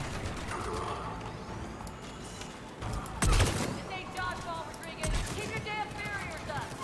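Gunfire from the video game Mass Effect 3, a few sharp bursts over a busy, mid-level game soundscape, with speech heard.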